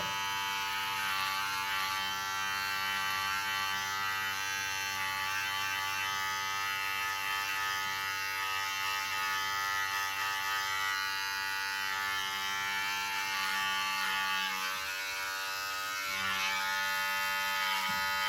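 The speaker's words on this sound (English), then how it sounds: "Put the clipper flat to the neck." An electric beard clipper held flat while trimming the neckline of a short beard gives a continuous, close, even buzz that runs steadily throughout with no talking.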